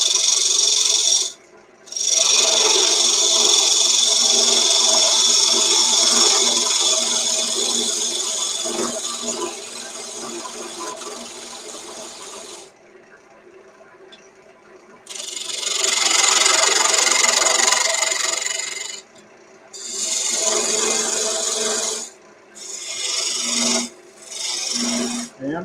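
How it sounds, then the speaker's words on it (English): Wood lathe turning a vase while a skew chisel cuts its edge, giving a loud, sustained rasping hiss in long passes broken by short pauses, with the motor humming underneath. "However, I'm going to use a skew and just right on that edge."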